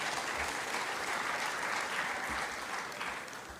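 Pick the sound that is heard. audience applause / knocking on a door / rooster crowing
audience applause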